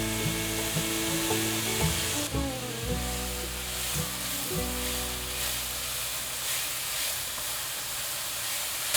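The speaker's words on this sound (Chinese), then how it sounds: "锅内放入一些油，油热了之后，放入金针菇炒香" Enoki mushrooms stir-fry in hot oil in a wok with a steady, loud sizzle and hiss, broken by clattering scrapes as they are tossed early on, then settling into a constant frying crackle.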